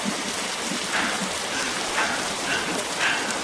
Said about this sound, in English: And the rain does absolutely nothing.